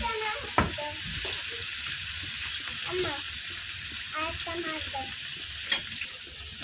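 Chabila fish crackling and sizzling in hot oil, a steady frying hiss with occasional stirring clinks and scrapes, close by, with a voice talking over it at times.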